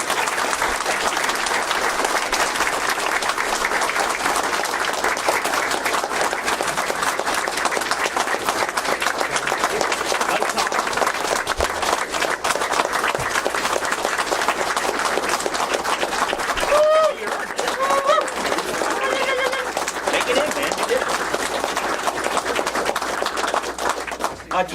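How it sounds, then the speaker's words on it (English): Sustained applause from the audience at the Toronto PET Users Group 40th anniversary gathering at World of Commodore 2019, dense and steady for about twenty-five seconds, with faint voices and cheers near the end. "one last round of applause for all these people"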